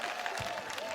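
Crowd applause at a political rally for Senator Wamatinga in Nyeri: a dense, steady wash of clapping and crowd noise that fills the whole second at an even level, with a faint sustained tone running underneath.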